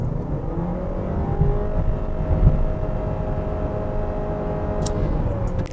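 A Honda Odyssey i-MMD hybrid engine under full-throttle acceleration from 60 km/h, heard from inside the cabin as a loud, steady, droning engine hum with rising tone, no talking over it.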